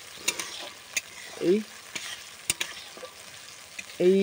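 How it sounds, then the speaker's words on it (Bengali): Shrimp frying in a generous amount of hot oil while being stirred, with intermittent scraping and clatter from the utensil against the pan over a low sizzle, no talking. "চিংড়িগুলো ভালো করে ভেজে নেবো।"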